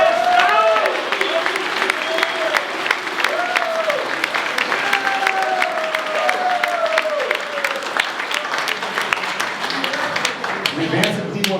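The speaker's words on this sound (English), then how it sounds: "Give Scott a round of applause." Sustained audience applause fills a banquet room, a dense wash of clapping hands with some voices calling out over it.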